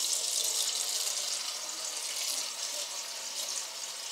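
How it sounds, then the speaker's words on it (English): Tap water pours steadily into a round cat water fountain, making a continuous bright, close splashing hiss for a few seconds with no talk. "Put some water in here."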